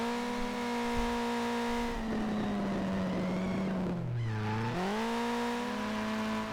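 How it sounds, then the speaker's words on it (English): Tires squeal while drifting in a video game, a sustained, loud, pitched screech that wavers and briefly dips lower before recovering, over a steady engine drone. "Listen to those tires squeal."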